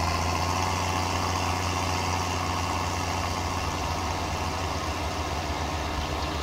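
Warmed-up farm tractor engine idling steadily in Farming Simulator on a soybean-planting farm, a constant low mechanical drone with no talk.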